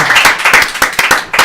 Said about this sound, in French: On reçoit tout de suite Thomas, s'il vous plaît, applaudissements, les loulous.